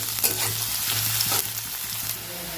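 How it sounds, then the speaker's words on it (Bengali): Dried red chillies with chopped onion and garlic frying in hot oil, a loud continuous sizzle broken by a few sharp stirring scrapes, close up and with no voices. "আগে লঙ্কা দুটো ভেজে নেবো একটু। পেঁয়াজ আর রসুন কুচিটা দিয়ে দেবো"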